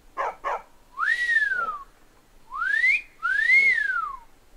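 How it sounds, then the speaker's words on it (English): In the video game The Elder Scrolls V: Skyrim, a player whistles to call a horse: two short chirps followed by three loud, clear sliding whistles, each rising and falling, close and isolated. "You mean I can finally able to whistle for my horse?"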